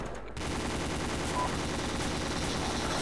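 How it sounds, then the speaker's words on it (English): Mounted LMG machine gun firing in a military shooter video game, a continuous loud rattle of automatic fire that sets in after a brief quiet moment and runs steadily to the end. "I've got the LMG here mounted, I'm gonna engage him with it"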